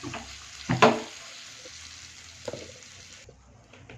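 Spices sizzle in a hot pan for a village-style goat curry, with a short burst of stirring and frying near the start, then a quieter, steady sizzle.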